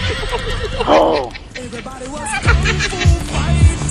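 A horse whinnies with a loud descending neigh, followed by hoof clops and other horse sounds amid a crowd's background babble, close and lively.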